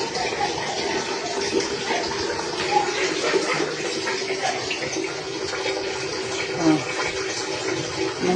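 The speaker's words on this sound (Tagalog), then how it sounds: "Ang hina ng tubig dito" A weak trickle of rust-coloured water runs from a household tap, a steady, soft, hissing splash that continues evenly throughout without any talking.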